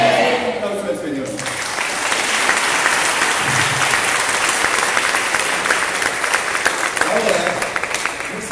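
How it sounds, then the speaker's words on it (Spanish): A church congregation bursts into sustained applause after a brief spoken line, dense clapping and a few cheers filling the room steadily until the end. "Un aplauso al Señor."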